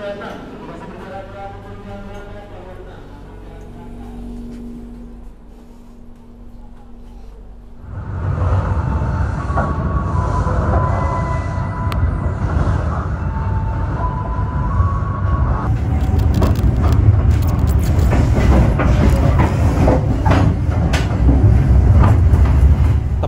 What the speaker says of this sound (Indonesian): sekarang saya duduk di kereta ekonomi 8, dan ini 5 menit lagi keretanya mau berangkat